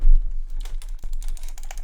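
Thumb side buttons on a gaming mouse with a braided cable click rapidly: a run of sharp, close, dry taps in quick irregular succession, with no voice over them.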